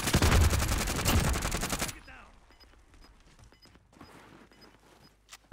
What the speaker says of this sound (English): They're just shooting through the wall